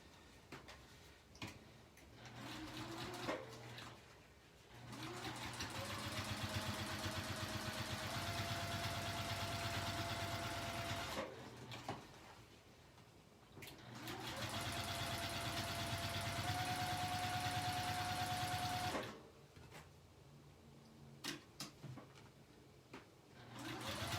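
Sewing machine stitching along either side of a seam in two long runs of rapid, steady whirring, each starting and stopping cleanly with quiet pauses between.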